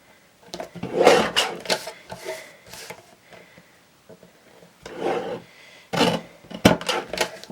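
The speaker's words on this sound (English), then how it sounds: "Okay, so let's trim off this excess." Excess paper being trimmed while assembling handmade cards from a 12x12 sheet, heard as a few close scraping, rasping cuts in short bursts with quiet pauses between them, no talking.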